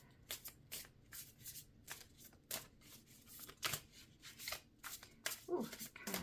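A deck of tarot cards is shuffled by hand in repeated quick riffling bursts, close and crisp, with a brief murmur of a voice near the end.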